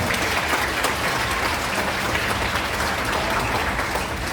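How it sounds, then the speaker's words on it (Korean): A wedding hall audience gives the groom a steady wash of applause, dense and even throughout with no voices standing out. "신랑 안수님 큰 박수 부탁드립니다"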